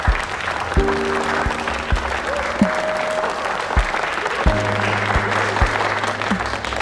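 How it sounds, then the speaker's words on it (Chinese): Warm applause greets a new editor-in-chief at a welcoming ceremony, steady clapping from a gathered crowd throughout, with brief musical tones and soft percussive hits under it. "接下来让我们用最热情的掌声欢迎今天的主角"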